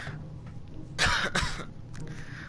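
Two harsh coughs from a video game character in quick succession, close and fairly loud, followed by a fainter throaty rasp, over a low steady hum.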